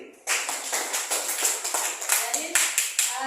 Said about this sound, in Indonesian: Tepuk tangan buat Indri.